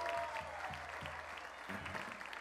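Applause for a performer at a Brazilian radio music festival, a continuous rain of clapping from the audience heard at moderate distance while a low rhythmic thump keeps pulsing beneath it.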